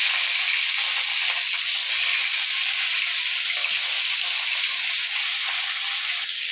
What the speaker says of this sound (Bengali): কড়াই তেল দিয়ে মাছটা দিয়ে দিচ্ছি।